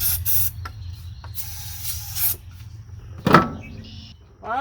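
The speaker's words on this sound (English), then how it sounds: "I'll give her a little bit of carb cleaner" Carb cleaner sprays into the carburetor of a 1971 Dodge D100 abandoned for 34 years. There are a few short, near hissing bursts with pauses, followed by a sharper clatter.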